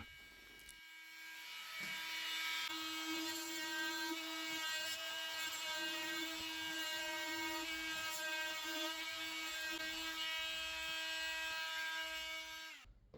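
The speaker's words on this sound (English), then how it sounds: "use the multi-tool that will make precise cuts and saving the filter as we see here" An oscillating multi-tool cuts a strip of decorative acoustic wall panel in one continuous, steady buzzing whine with a strong tonal hum that runs close and loud for most of the stretch.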